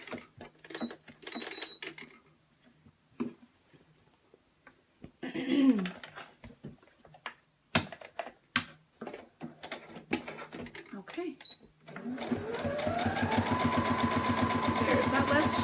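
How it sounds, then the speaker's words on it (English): A sewing machine runs a straight stitch at a quarter-inch seam allowance, starting after scattered clicks and handling noises and settling into a steady, close, rapid mechanical whir for the last few seconds. "I'm just going to sew it straight stitch using a 1/4 inch seam allowance down this straight edge"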